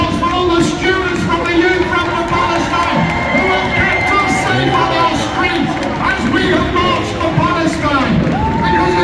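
Crowd at a Palestine protest march in Manchester, cheering and shouting loudly, with high children's voices and whoops rising over a continuous roar of voices close around.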